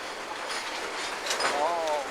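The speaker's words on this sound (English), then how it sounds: "That BNSF unit tank train finally is heading northbound." A BNSF unit tank train rolls along the tracks, a broad hissing rumble of wheels with a brief high squeal toward the end, heard from a distance.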